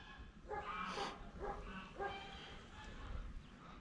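Several dogs at a farm bark and yip a few times at moderate distance, short sharp barks spaced across the clip over quiet outdoor background.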